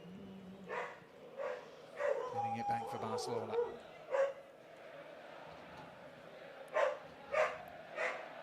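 A dog barks and yips repeatedly in the distance, short sharp calls spaced irregularly, partly under a voice talking.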